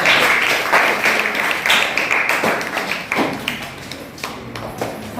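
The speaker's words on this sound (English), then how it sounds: "Clap" Classroom clapping welcoming two students to the dais, a dense round of hand claps close by that stays steady, then thins out slightly toward the end.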